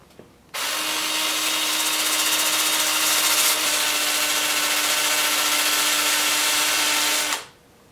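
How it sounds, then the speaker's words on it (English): A wooden turned bowl is sanded by hand on a workbench, giving a steady, continuous abrasive rasp with a faint hum, running unbroken for about seven seconds with no talking. "I'll sand this whole 3-inch area"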